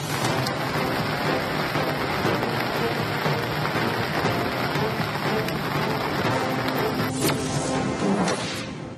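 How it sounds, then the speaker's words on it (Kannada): Heavy monsoon rain in Karnataka pours down in a dense, continuous roar, loud and close, with drops splattering on hard surfaces throughout. "ಇದ್ದಕ್ಕಿದ್ದಂತೆ ಸುರಿದ ಭಾರೀ ಮಳೆ"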